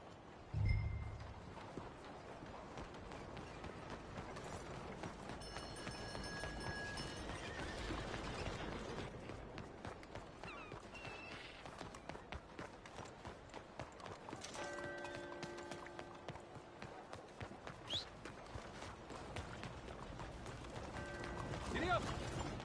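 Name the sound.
horse hooves galloping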